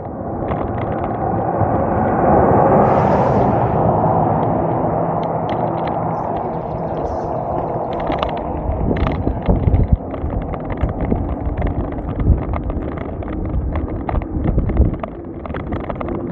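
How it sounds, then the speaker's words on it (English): Strong south wind blows across open ground, a steady loud buffeting roar on the microphone with gusty swells and rattling bursts throughout, no voices. "The trees are sheltering us from that south wind, but once you get into the open, it's hard."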